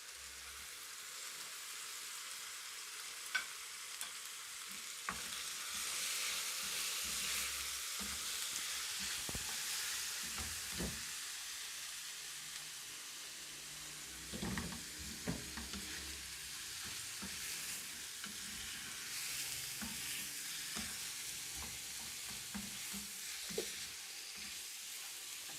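Chopped tomatoes sizzle in a pan of boneless chicken handi, a steady frying hiss with occasional clatter from stirring, heard alone and close throughout.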